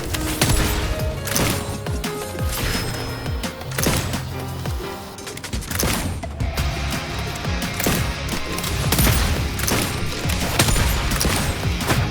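Gunfire in the video game Wuthering Waves, mixed into dense, loud combat audio with repeated shot bursts, impacts and a music bed running throughout.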